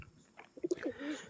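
Pigeons coo softly nearby, a few low, rounded throaty notes in quick succession over a quiet background.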